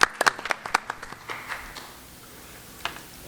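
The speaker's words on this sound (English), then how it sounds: "We'll give Ali Deeb a round of applause since it's so high level." Sparse, scattered handclaps from a small city council meeting audience in Dearborn Heights, a quick cluster of claps that thins out and fades, with one last clap near the end.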